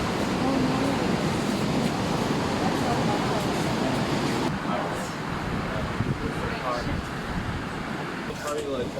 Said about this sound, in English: You can hear the sound of the big waves on the ocean.